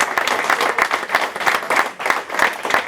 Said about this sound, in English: a huge round of applause for these two guests